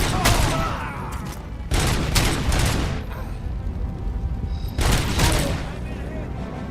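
Gunfire in the Robocop video game comes in loud, dense bursts: a long volley at the start, two more around the two-second mark and another near five seconds, with quieter stretches between. A voice talks over the action.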